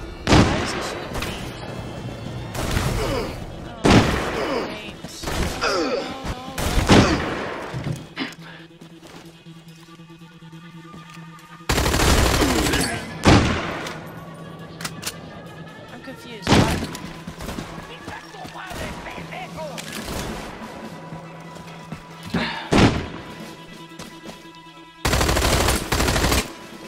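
Gunfire in Army of Two: The Devil's Cartel: repeated machine-gun bursts and single shots crack loudly in uneven clusters, with sustained firefights broken by quieter stretches of game ambience and occasional talk.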